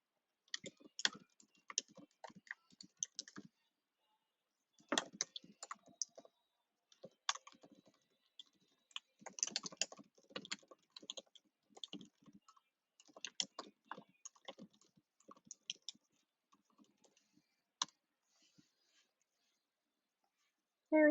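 Quiet computer keyboard typing close by, clusters of rapid keystrokes separated by brief pauses and a few isolated taps, with no voices over it.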